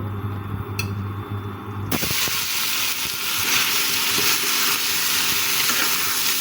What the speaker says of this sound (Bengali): তেল গরম হয়ে আসলে মুরগির মাংসগুলো দিয়ে দিব